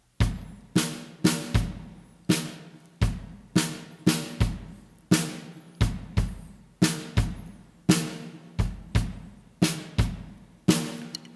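An intercultural jazz trio shifts from the warta nus rhythm into ballady: a long run of close, loud hand-drum hits in clustered groups, each stroke ringing briefly and decaying between accents.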